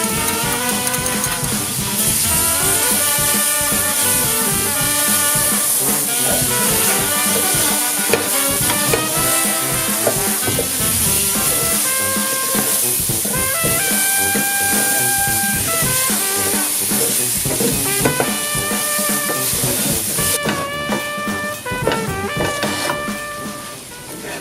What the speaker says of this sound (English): Cook the vegetables for about 10 minutes until they get soft